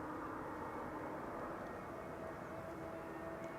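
A KLM Boeing 737-800 arriving from Madrid on approach to Schiphol's Polderbaan runway gives a steady, fairly distant jet engine roar that holds at an even level throughout, with no voices.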